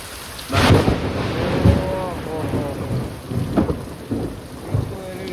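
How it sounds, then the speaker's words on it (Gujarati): A heavy storm brings a loud, close thunderclap and more rolling rumbles over steady rain hitting surfaces. Wind gusts surge now and then, and faint voices sit low in the mix. "આ વરસાદ તો મિત્રો મેં પહેલી વાર ભાઈ એટલો વરસાદ જોયો છે"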